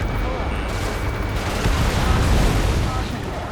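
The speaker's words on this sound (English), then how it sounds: "Gunfire and the roar of jets echoing through the streets." Dense, continuous rumbling roar of gunfire, explosions and jets in the video game Ace Combat 7, with no distinct gaps, swelling slightly louder midway through, like a chaotic battle soundscape in a city under martial law.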